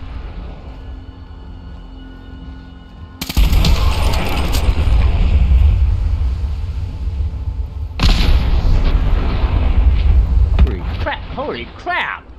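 Loud booming blasts and rumbling bursts of explosions in the video game Fallout 4, with crackling debris and a busy battle din throughout.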